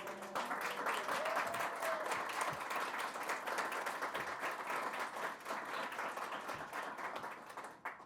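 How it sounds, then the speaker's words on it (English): Fairly faint, sustained applause from an audience at a fall celebration show honouring board members, many hands clapping steadily from a distance, with a brief voice near the start. "Let's give them a round of applause."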